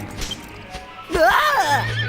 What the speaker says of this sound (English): my horse isn't accustomed to being ridden